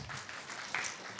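Brief, faint applause from the audience at a Kansas Senate District 7 town hall, a soft wash of scattered clapping lasting about a second.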